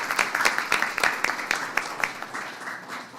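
At a commission meeting, people applaud the community band marking its 15th anniversary. A moderate, uneven patter of claps from a modest group fades toward the end.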